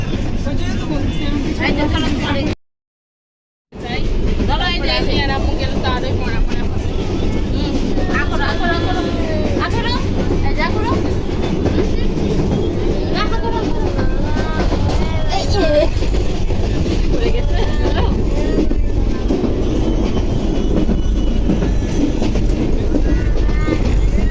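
A train rumbles steadily on the rails with a constant loud roar, while people talk over it throughout; the sound briefly cuts out near the start.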